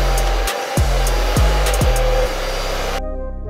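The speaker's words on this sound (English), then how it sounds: "I'm blow drying with Cheese Rocket Blow Dryer on the low setting" A Cheese Rocket blow dryer running on its low setting while drying thick natural hair gives a steady, close whoosh with a few brief dips and bumps as it is moved, then cuts off near the end.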